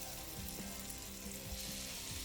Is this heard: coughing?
no